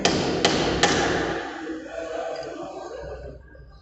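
A drill drift is struck with a hammer, with the tool resting on a workbench, to knock a drill out of a drill-machine sleeve. Three sharp metallic blows land about half a second apart, followed by fading ringing and bench noise.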